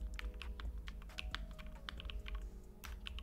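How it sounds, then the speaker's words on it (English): Keyboard typing effect added over a Python coding session in the PyCharm editor, a steady run of quick, light key clicks with irregular rhythm, close and alone. "is the typing effect a part of the thing on PyCharm?"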